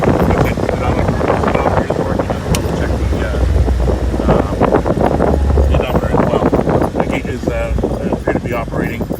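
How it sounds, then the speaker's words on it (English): A Volvo military jeep engine runs steadily while the vehicle is driven, a continuous low rumble mixed with wind buffeting against the microphone throughout. "I'll stay quiet here so we can hear the engine."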